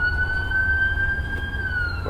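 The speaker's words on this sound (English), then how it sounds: "Of course, there's ambulances in the background." Ambulance sirens wail steadily in the distance, holding a long sustained tone over a low road rumble, with no voices.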